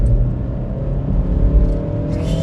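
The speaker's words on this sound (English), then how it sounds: "Just give it a bit of a second gear pull." A Kia Picanto with a 1.1 litre engine pulls hard in second gear along a country lane, its engine drone and road rumble loud and steady throughout, rising slightly in pitch as it accelerates, heard from inside the cabin.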